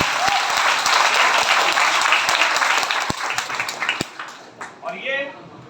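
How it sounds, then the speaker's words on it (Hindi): Audience applause at a seminar, brisk, dense clapping with a few sharp, distinct claps standing out, fading out toward the end as voices begin to speak. "एक बार जोरदार तालियां।"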